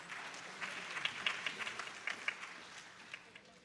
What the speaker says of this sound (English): clap praise for our senior pastor